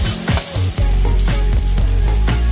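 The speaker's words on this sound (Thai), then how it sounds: "ตอนแรกก็เอาพริกผัดให้หอมก่อน" Chili stir-fried in a wok for a Thai noodle and made-to-order food stall, a loud, steady sizzle with scraping stirring strokes and clanks close by, no talking.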